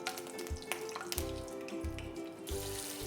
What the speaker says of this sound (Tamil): இப்போ இது லைட்டாக ஒரு வாட்டி சாட்டே பண்ணிவிட்டு 2 பச்சை மிளகா, முழு பச்சை மிளகா போடுங்க